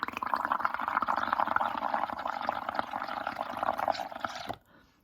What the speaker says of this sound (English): use the other end of the straw to blow bubbles